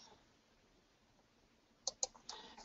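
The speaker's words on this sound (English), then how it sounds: "Left click where I want it to start, right click where I want it to end." Computer mouse clicked while drawing score lines in design software: two sharp, close clicks in quick succession, then a softer clatter, over a quiet hiss with no talk.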